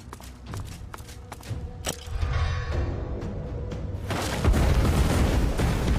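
A blast goes off in the Divinity Original Sin 2 video game, with low booming thuds and rising broadband rumble that swells into a loud, sustained roar over a few seconds.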